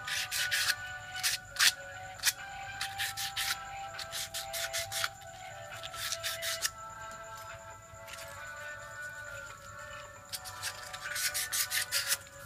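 Used sandpaper rubs back and forth on a disc brake caliper piston in quick scraping bursts, up close and fairly quiet, with short pauses between strokes.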